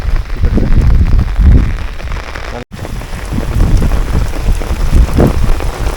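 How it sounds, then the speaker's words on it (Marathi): Heavy rain pours down hard and close, a dense loud hiss with gusting surges and one sudden split-second dropout. "इथं फुल पाऊस पडते"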